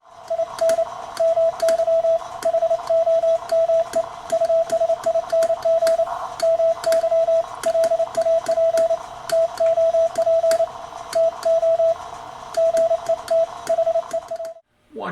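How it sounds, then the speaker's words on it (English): Morse code keyed over ham radio: a steady pure tone broken into rapid dots and dashes for about fifteen seconds, clear and continuous, with crackling static bursts behind it and no voices. "Once you've mastered Morse code as a language, you automatically know where the letter ends and where the next letter begins."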